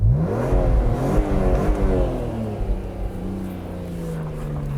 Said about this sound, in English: This car sounds like a race car.